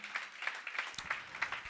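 Church congregation clapping in rhythm after a sermon, a steady series of bright, sharp hand claps at moderate distance, with a few brief low sounds partway through.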